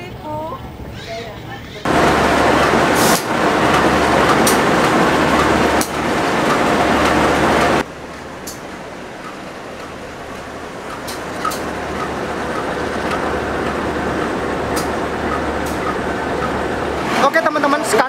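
Steady rumbling of an Indonesian Erlangga passenger train in motion between Surabaya and Jakarta, a loud constant roar with rhythmic low thumps, shifting to a quieter rolling hum partway through.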